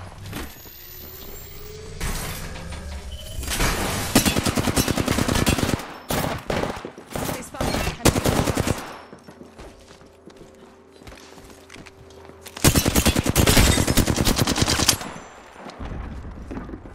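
Automatic gunfire in the battle royale video game Apex Legends, several loud, rapid bursts rattling in clusters with short pauses between them, plus a fainter gap of quieter game sounds.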